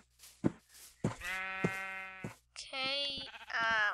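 A sheep in a Minecraft-style game bleats several times in short wavering calls, close and clear, alternating with quiet moments.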